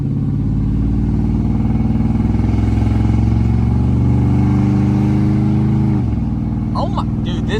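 A 5.9-liter truck engine with new mufflers replacing straight pipes, holding a loud, deep, steady rumbling rev close up for about six seconds before dropping off, with brief clatter at the end.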